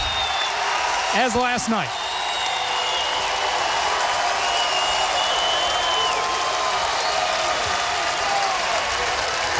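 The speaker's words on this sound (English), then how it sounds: "And the home crowd is loving it here at Walter Pyramid." A home crowd cheers steadily through a men's volleyball match at Walter Pyramid, Long Beach State against Hawaii, a broad continuous roar with commentators talking over it.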